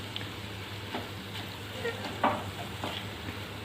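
Ingredients for a chicken corn quiche are stirred and mixed in a pan, with a soft scraping and faint sizzle over a steady low hum. A few light clinks come through, and there is no talking.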